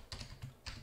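Keys tapped on a computer keyboard while entering text in a word processor, three quick soft clicks close to the mic at a fairly faint level.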